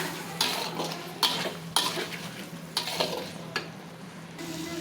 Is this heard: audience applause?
no